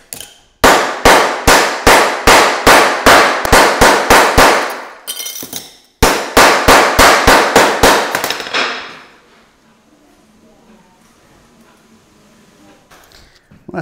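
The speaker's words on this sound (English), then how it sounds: "We'll start hitting these with tools and see how strong it actually is" Tools strike welded aluminium test pieces in a garage: two rapid bursts of about ten sharp, loud metallic bangs each, separated by a short pause, then fading to quiet.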